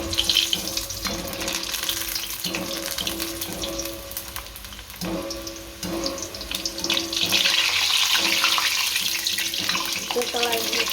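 Potato french fries frying in hot oil on a medium gas flame, a steady close sizzle and bubbling with light clinks of a utensil.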